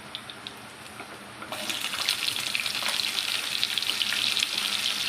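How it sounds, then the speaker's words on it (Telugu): Potato pieces sizzle and fry in hot oil in a pan for an aloo curry, quiet at first, then a loud steady crackling hiss. "ఒక 5 మినిట్స్ వరకు బాగా ఇది ఆలు ఫ్రై చేసుకోవాలండి"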